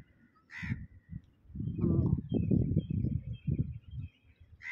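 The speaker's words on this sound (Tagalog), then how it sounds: "Pa sa dulo, ang dami may uwak." Crows in a park give a few harsh caws, some sharp and high, over nearer rough, rhythmic rustling or scraping that fills the middle of the stretch; no one speaks.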